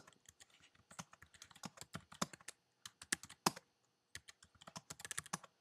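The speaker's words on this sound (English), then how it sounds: "I'll just type them in here." Rapid, quiet clicking of keys on a computer keyboard, irregular bursts of typing with short pauses, close and alone.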